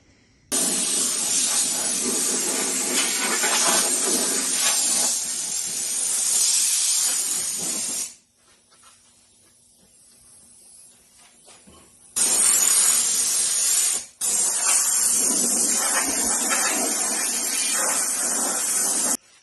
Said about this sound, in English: blow it off and spray a little adhesion promoter on it